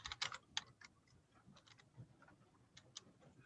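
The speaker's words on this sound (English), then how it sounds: "I just typed in try this and hit enter on my keyboard" Quick, irregular taps on a computer keyboard, then a single keystroke for the enter key, during an online board meeting. The clicks come close and fairly faint over a low background hum, with no voices over them.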